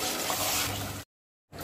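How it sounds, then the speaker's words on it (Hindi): Water poured from a tap or vessel into a cooking pot for pea pulao rice, a steady close splashing rush for about a second that cuts off abruptly, followed by silence and a brief return of sound. "अब हम इसमें चावल के मुताबिक पानी ऐड कर देंगे।"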